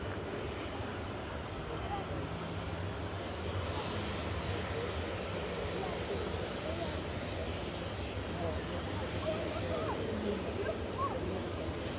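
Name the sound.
Boeing 737-800 airliner arriving from Alicante at Manchester Airport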